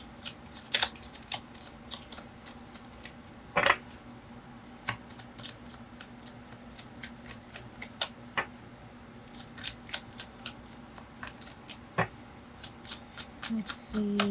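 A tarot card deck is shuffled by hand in a quiet room, producing a long run of crisp, rapid riffling clicks and snaps at an uneven rhythm, close and fairly soft.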